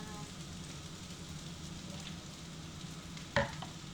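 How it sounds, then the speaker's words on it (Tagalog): Pork belly frying in canola oil in a pan with onion and garlic, giving a steady, even sizzle throughout with one brief sharp clatter near the end. "Fry ko siya."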